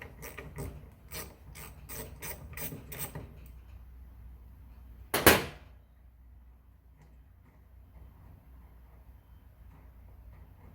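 A ratchet wrench loosens the two snug bolts on a Poulan Pro hedge trimmer, giving a run of quick, evenly spaced clicks, then one sharp loud clack and a quiet workshop background.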